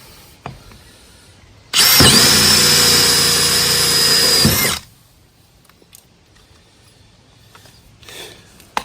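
A power tool cuts a round hole in a plastic IBC tank, a loud high whine lasting about three seconds that starts and stops abruptly between quiet handling sounds.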